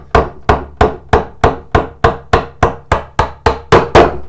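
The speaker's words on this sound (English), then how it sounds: "I'm using my bigger chisel this time because I have very little to get rid of." Sharp, loud mallet blows on a chisel cutting a wooden bowtie joint by hand, about a dozen evenly spaced strikes in a quick steady rhythm, close up with no talking.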